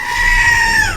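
A single loud, close scream from a screaming-goat toy prop, a steady reedy bleat held for about a second before its pitch sags at the end.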